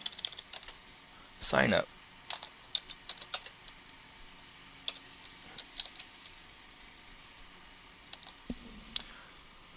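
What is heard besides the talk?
typing on a computer keyboard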